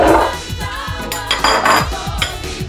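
Parsnips, sweet potatoes and carrots tipped into a roasting dish for a Sunday roast, loud close knocks and clatters of vegetables and metal, several thuds in quick succession.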